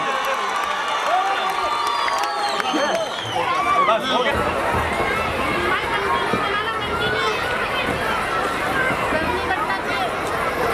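An audience cheers and claps through a lively hubbub at an outdoor Ramlila performance, and the crowd noise stays loud and sustained for the whole stretch.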